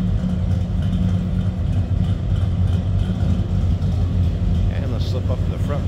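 A 1979 Chevrolet C20 Camper Special pickup's V8 engine idles steadily nearby, deep and throaty with a low rumbling burble, with faint background sounds toward the end.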